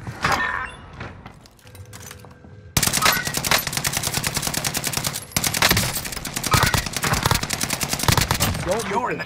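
Rapid automatic gunfire in a battle-royale shooter game rattles loud and close in sustained bursts after a brief quieter lull, with shouted voices heard over the shooting.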